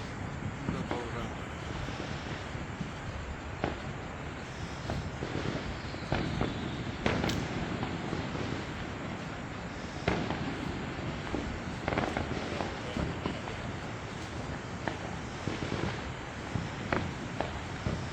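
Fireworks at a July 4th show in San Diego pop and crackle continuously over a dense, broadband roar of crowd noise, with several sharper nearby bangs standing out among steady distant bursts.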